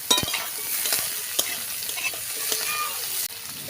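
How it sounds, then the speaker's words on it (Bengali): Mustard greens and chopped brinjal frying in a pan give a steady, close sizzle, with light stirring scrapes throughout. "বেগুন দিয়ে সর্ষে শাক ভাজা করব।"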